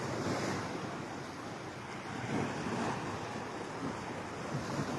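Waves washing onto the beach at Benalmádena, Spain, a steady close surf roar with wind noise buffeting the microphone throughout.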